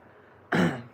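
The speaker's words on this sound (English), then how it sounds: "Sorry if I keep on clearing my throat." A single close throat clearing from a streamer in a fursuit, one sharp burst after near-silence that fades over a few tenths of a second.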